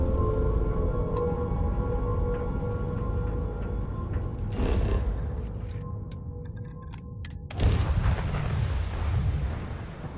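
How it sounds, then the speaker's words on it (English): Spaceship retro thrusters fire during a landing in Starfield, a loud roaring burst swelling near the middle and a sharper second blast later, over a constant low engine rumble with faint ticking. "Landing struts primed. Retros firing."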